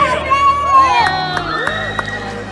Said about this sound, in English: let's get a cheer over Belle.